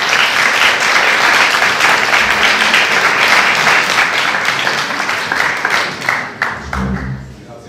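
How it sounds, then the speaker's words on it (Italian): Applause from an audience at a university Erasmus Day event fills the room, dense and steady clapping that thins and fades toward the end. "Facciamo un applauso."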